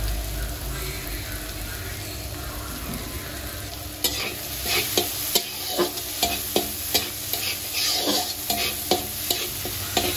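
Green pea chutney mixture frying in a pan, first a steady low sizzle, then from about four seconds a string of regular scraping stirs over continuous frying hiss, close and fairly loud.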